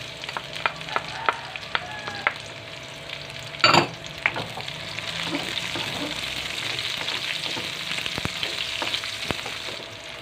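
Garlic and onion for tahong Bicol express hit hot oil in a pan, producing a steady close sizzle with scraping stirs and a sharp clack of a spatula against the pan partway through.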